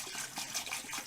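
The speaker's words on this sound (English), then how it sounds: "Do this over the basin so that you can rinse it clean with running water as you go." Running tap water splashes steadily over a bathroom basin, a soft continuous trickle and spatter at close range with no talk.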